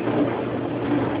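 A dishwasher runs in a home kitchen, giving a steady, even rushing hum with faint water noise, continuous and moderately quiet with no talk.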